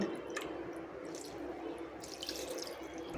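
Water streams steadily into a bowl of semolina and yogurt for a few seconds, a continuous close pouring splash with no talking.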